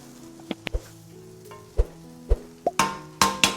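Layered food stirred in a pan, a run of soft clacks, plops and scrapes at an uneven pace against a faint sizzle, growing louder and busier toward the end.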